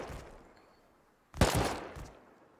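Gunfire in the survival game Rust: a sudden loud burst of shots erupts midway after a quiet stretch, ringing out and trailing off with a smaller follow-up crack near the end.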